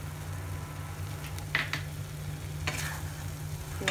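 Vegetables with vinegar and spring onion stirred gently in a pan: a soft sizzle under a low hum, with two brief scraping stirs of the spatula, quiet and close.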